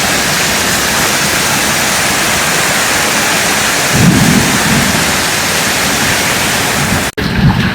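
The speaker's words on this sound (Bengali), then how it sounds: "যেমন গরম, তেমন বৃষ্টি, তেমন বজ্রপাত" Heavy rain pours steadily during a thunderstorm at Green Park in Noakhali, heard from shelter, with a low thunder rumble swelling partway through under the constant loud downpour.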